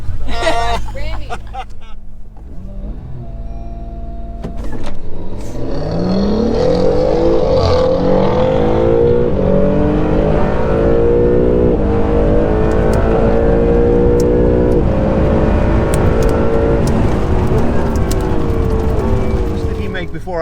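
Acura NSX launching at a drag race track, the engine revving hard and pulling away loudly in a long rising roar, with voices talking over the start.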